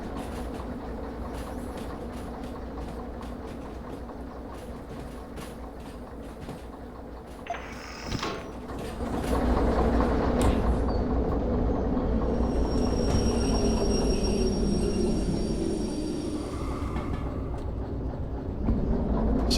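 A train rolls along in the railway simulator game Derail Valley, a steady rumbling drone with rail clatter that swells louder about halfway through and holds, with a faint high whine later on.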